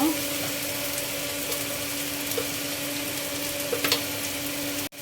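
Food sizzles steadily in a pan as salt goes in and everything is stirred, a constant close frying hiss with a few light scrapes and a brief clatter near the end.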